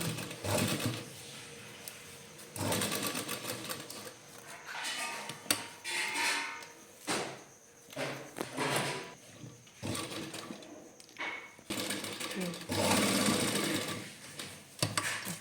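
A sewing machine stitching around a garment neckline, running in bursts of fast, steady mechanical chatter with short pauses between runs, close and clear with no speech.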